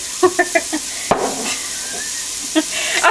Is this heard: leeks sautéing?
yes